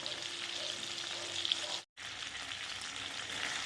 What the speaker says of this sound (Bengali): মাছগুলো কিন্তু একটু লো ফ্লেমে একটু কড়া করে ভাজতে হবে